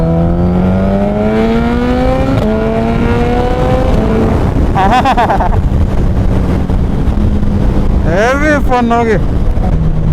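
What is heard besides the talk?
Suzuki Hayabusa with Brocks carbon exhaust revving and popping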